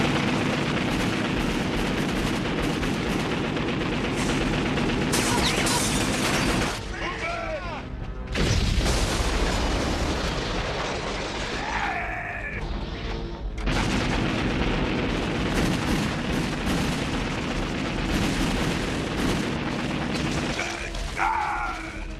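Anime combat with heavy artillery and gunfire: dense, continuous booming blasts and rattling shots, loud and close, layered with mechanical clanks and a few brief shouted voices.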